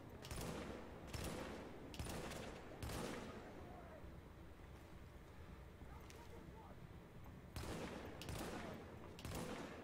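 Gunfire in The Division video game: several loud bursts of rapid shots in clusters, separated by brief quieter stretches of background game ambience.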